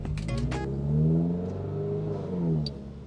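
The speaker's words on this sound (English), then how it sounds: "Damn, my exhaust sounds nice." A car's aftermarket exhaust revs up and settles, rising to a loud throaty drone and easing back, with a brief clatter at the start and a rev from close by.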